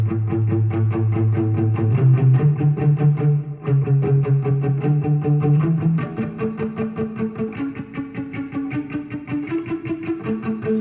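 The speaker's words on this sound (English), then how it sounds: "The last tip is to palm mute." Palm-muted guitar chords strummed in a steady, chugging rhythm, each stroke clipped short, with the chord shifting every couple of seconds; no voices.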